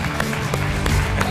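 A studio audience at a Georgian TV comedy game show breaks into dense, close applause, a brief burst of rapid overlapping claps with crowd murmur.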